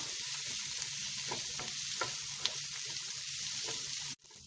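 Garlic, ginger and chopped green chili sauté in hot oil in a pan for a fish masala, giving a steady close sizzle with a few light stirring taps, then cutting off abruptly near the end.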